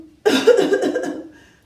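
A person imitates a whooping cough, the pertussis cough, with a single harsh burst of close, loud coughing that trails off over about a second.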